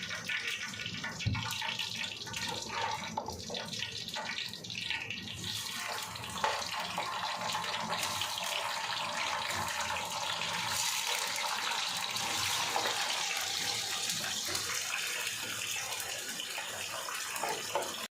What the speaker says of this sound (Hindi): तो हम जो अरबी है वो अपनी इस ऑयल के अंदर डालेंगे ताकि ये थोड़ी कुक हो जाए।